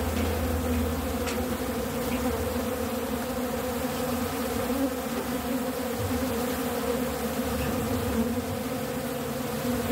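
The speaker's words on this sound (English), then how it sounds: "Let's feed the bees." A dense swarm of honey bees feeds on thyme syrup poured into a hand, their steady, loud buzzing humming close and continuous throughout with no talk.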